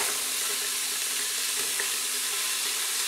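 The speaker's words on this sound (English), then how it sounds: "So adding my onion, pepper, and celery." Chopped onion, pepper and celery sauté in an Instant Pot for a cabbage stew, giving a steady, even sizzling hiss that stays close and fairly quiet throughout without any voices.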